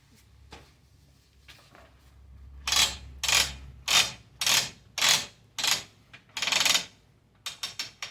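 A quilt is rolled tight onto the rollers of a Grace Company Quilters Evolution Elite quilting frame, giving a series of about eight loud ratcheting, clicking bursts in an uneven rhythm, after faint speech and handling noise.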